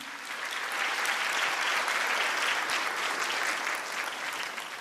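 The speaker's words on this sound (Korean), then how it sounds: "다시 한번 큰 박수 부탁드립니다" A ceremony audience at a Disabled Persons' Day event bursts into dense, steady applause after a sign language performance, continuing loud and unbroken for about five seconds with no talk.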